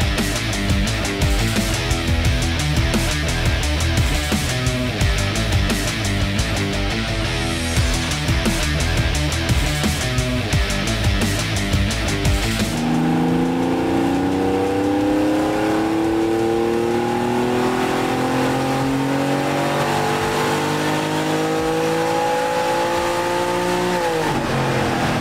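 Porsche 997.1 C2 with an intake modification revving on a dyno, a loud sustained roar for about half the span, then a gear change and a series of rising engine sweeps, close and alone without talk.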